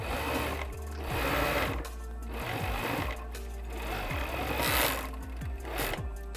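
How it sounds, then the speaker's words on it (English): A serger overlocker stitches fabric for a reusable gift bag in short, loud mechanical whirring bursts with brief pauses between runs. "I'm going to use a serger"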